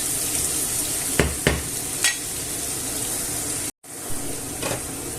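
Onion and garlic fry in flour and olive oil with a loud, steady sizzle, broken by a few stirring scrapes and a brief cut in the sound.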